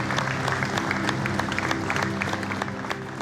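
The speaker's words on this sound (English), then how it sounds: "All right, shipmates, give yourselves a round of applause." Crew of the refitted warship HMAS Canberra applaud themselves after passing a mariner skills evaluation, a brief burst of moderate clapping with a low tonal hum of the ship underneath.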